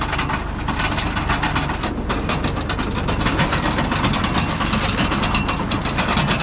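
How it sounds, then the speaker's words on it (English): Potato harvester spinning away behind an MF 35 tractor in a spud field, a steady loud mechanical rattle and rapid clattering over the engine's drone, continuous and close with no talking. "there's the potato harvester spinning away again"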